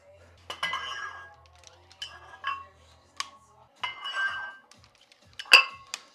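Metal gym weight plates clink and clank as a barbell is loaded, several separate bright metallic knocks and scrapes close by, with faint background noise.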